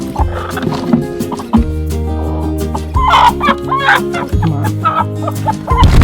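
Several broody hens cluck and grumble close by in a steady, overlapping chatter, with a low continuous hum underneath and a brief spoken word.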